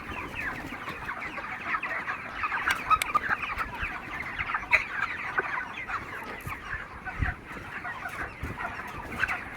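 Chickens cluck steadily in a farmyard flock, a dense, continuous chorus of overlapping calls at moderate loudness, with no talk over it.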